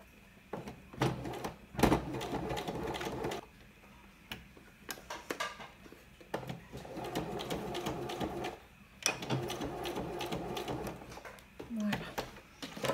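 Sewing machine running in short bursts while stitching a fabric protective mask with a filter pocket, the mechanical whir starting and stopping several times with pauses between runs, fairly close and moderate in level.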